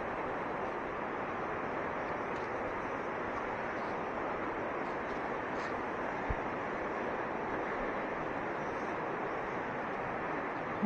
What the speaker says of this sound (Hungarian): ott csobog lenn a folyó